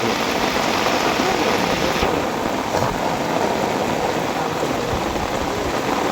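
Heavy rain pours down during a fishing outing, a dense and unbroken roar of drops striking surfaces that stays loud and constant, with no voices.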